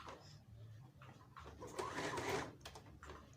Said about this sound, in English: So I'm just going to take my machine over it using my back stitches.